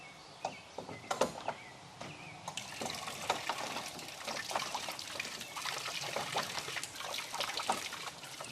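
Water trickles and splashes steadily as it pours in to fill a wildlife water hole outdoors, a continuous close-up flow with small irregular splashes throughout.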